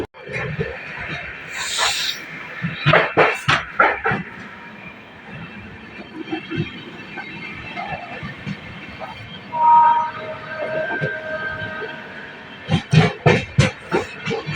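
The Amrit Bharat Express passenger train rolls along with a steady rumble and bursts of rhythmic clattering, while people talk nearby and a brief squeal rises in the middle.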